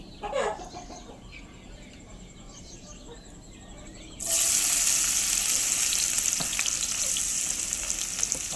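Onions dropped into hot oil and ghee for a mutton curry burst into a loud, steady close sizzle midway, after a quieter stretch with a brief clatter near the start.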